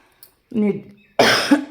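A voiced throat-clearing sound, then after a short pause one harsh, close cough.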